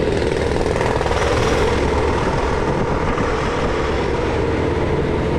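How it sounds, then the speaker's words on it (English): Jackhammers pounding at a construction site, a steady dense rattling din mixed with broad rumbling noise, continuous and fairly loud without any talk. "jackhammers, construction, loud noises."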